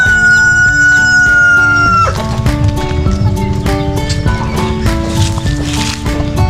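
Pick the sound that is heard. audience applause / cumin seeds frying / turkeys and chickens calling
turkeys and chickens calling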